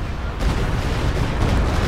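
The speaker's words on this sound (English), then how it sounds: "Oh, nice Stuka barrage there, wipes that squad" Stuka rocket barrage in Company of Heroes 2 during a 2v2 match, a dense rumbling roll of overlapping explosions and booms, loud and continuous throughout, with no voices.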